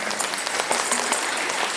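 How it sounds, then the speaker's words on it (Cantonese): Applause for the music teachers from a primary school audience at a music show, a short burst of dense clapping from many hands that fills the room evenly throughout. "第二個俾掌聲你哋嘅音樂老師先啦。"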